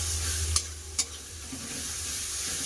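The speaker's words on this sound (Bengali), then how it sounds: "দিয়ে দিলাম আদা রসুন বাটা" Ginger garlic paste frying in a pan for a Bengali potato and meat curry gives a steady, close sizzle, broken by two sharp scraping stirs early on, with no talking.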